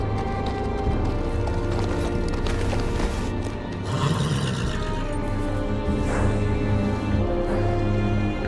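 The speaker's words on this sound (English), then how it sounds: "On a horse, no less." Horse hooves clip-clop at a steady pace through a dense wash of ambient sound at Castle Black in a Game of Thrones video game, loud and continuous.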